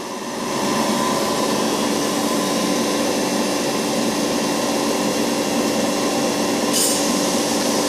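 A VC999 vacuum packaging machine runs a wash-down cycle, spinning up within the first second into a steady, loud, whining motor drone that holds evenly throughout.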